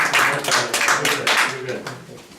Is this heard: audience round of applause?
yes